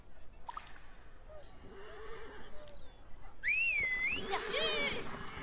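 A horse whinnies in the Sword of Justice video game, with a loud, rising and falling neigh near the end of the clip. Faint whistle-like tones and soft ambient game sounds come before it.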